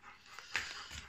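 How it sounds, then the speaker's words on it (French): A female dog pants in the heat, a brief burst of quick breathy huffs close to the microphone, faint against a quiet indoor background with no speech. "on l'entend haleter."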